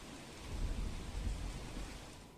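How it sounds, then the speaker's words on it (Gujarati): Heavy monsoon rain pours down in Valsad, a steady dense wash of rain noise with a low rumbling undertone, fairly faint and continuous with no voices. "વલસાડ જિલ્લામાં વહેલી સવારથી જ વરસાદ વરસી રહ્યો છે"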